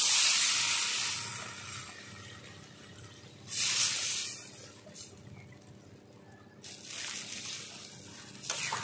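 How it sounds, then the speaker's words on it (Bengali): Water is poured into a hot pan of fried dried mango for a sour fish curry, giving a loud sustained hiss and sizzle that swells in three bursts, close up with no talk. "এবার দিয়ে দেবো জল।"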